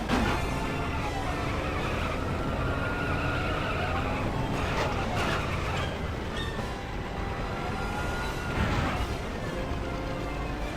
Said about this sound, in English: do the same thing for Harley Quinn's hammer truck. Drive over the panel, and then grab the mini-kit.